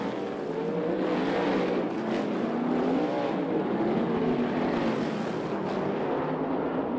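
A sprint car engine roars steadily at full throttle on a dirt track, a loud continuous racing drone with slight pitch shifts as it bounces through ruts.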